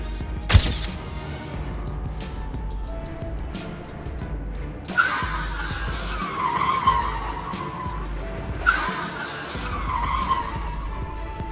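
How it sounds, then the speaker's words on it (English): A car brakes hard and skids repeatedly while swerving through a crowded roadway, with tires squealing in long screeches and an engine roaring under a sharp thump. "swerving and braking hard again and again, weaving dangerously through a crowded roadway"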